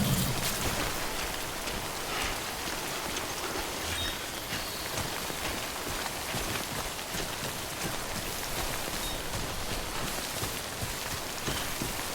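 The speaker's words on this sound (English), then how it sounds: "Don't stay out in the rain any longer than you have to." Steady timefall rain in the video game Death Stranding patters on surfaces, a continuous, even hiss of drops that lasts for about twelve seconds with no talking.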